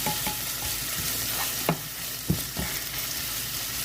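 Carrots and other vegetables are stir-fried in a hot pan for a quick bean sprout dish, giving a steady sizzle broken by several sharp spatula scrapes and clinks against the pan, close up and with no talking.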